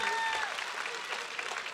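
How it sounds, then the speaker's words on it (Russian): Steady applause from an audience at a Sergei Polunin performance in Zaryadye Park, a dense wash of clapping that stays loud and even throughout with no talking. "Аплодисменты."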